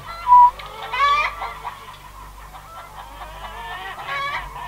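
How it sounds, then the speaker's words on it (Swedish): Laying hens in a henhouse cluck and squawk, one sharp loud call at the start followed by a busy chorus of overlapping clucks from many birds nearby. "I det här hönseriet har man värphöns som lägger ägg."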